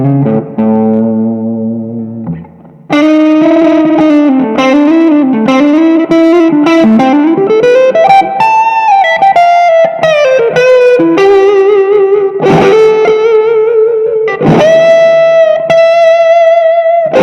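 An electric guitar on its neck pickup plays through a Diana Drive overdrive pedal, modelled on a Zendrive, in a Line 6 HX Stomp XL into a Vox AC10. A single held note gives way to a clear, lightly driven melodic line with bends and sustained notes.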